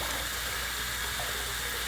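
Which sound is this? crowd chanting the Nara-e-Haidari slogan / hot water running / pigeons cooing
hot water running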